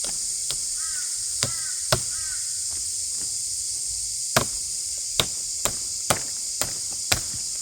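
Sharp, heavy hammer strikes ring out at uneven intervals, about a dozen blows, over a steady high hiss with a few crow caws early on.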